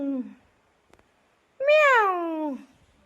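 A cat gives a short call, then after a pause a long, clear, drawn-out meow close by.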